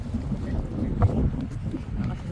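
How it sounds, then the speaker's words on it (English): Wind blows strongly outdoors in the Arkansas Ozarks among trees, a steady low rushing roar with microphone buffeting across a brief stretch. "It's almost too windy. Yeah, it's pretty windy."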